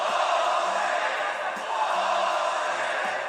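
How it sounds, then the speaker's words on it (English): A crowd cheers at an MMA event during a late, fifth-round bout. The arena gives off a steady, broad roar of massed voices with scattered shouts, loud and continuous for the whole stretch. "Now they're cheering bullshit."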